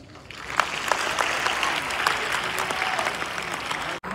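Dense, steady applause from a large crowd gathered at an Indian public event ahead of the Prime Minister's appearance, filling the whole stretch at an even level and cutting off abruptly near the end, with no talk over it.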